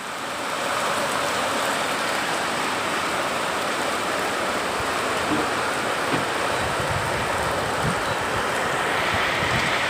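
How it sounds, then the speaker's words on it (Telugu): Heavy rain pours down outdoors during a storm, a dense continuous roar of broadband noise that holds steady throughout, with wind buffeting the microphone. "ఎంత వర్షం ఇగో"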